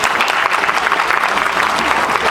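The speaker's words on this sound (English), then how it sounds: "let's give her a big round of applause." An audience at an engagement celebration claps loudly right after a congratulatory speech, a dense, sustained round of applause from a crowd that fills the whole moment without talk.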